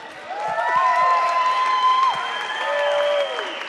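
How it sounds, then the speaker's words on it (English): A pageant audience applauds as contestants are welcomed back onto the stage, steady clapping mixed with high cheers and whoops running throughout. "To your roaring applause, of course."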